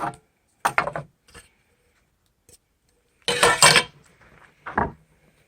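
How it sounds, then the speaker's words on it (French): A two-piece Coleman camping cookware set is handled, with scattered metallic clanks and clatters as pieces knock together, close and sharp, separated by short silences. "Casserole Coleman, 2 morceaux."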